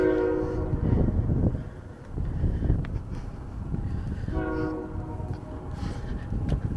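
A train passes near the ruins of the Joliet Iron Works, a loud steady rumble of rolling cars with two blasts of the horn, first near the start and again midway.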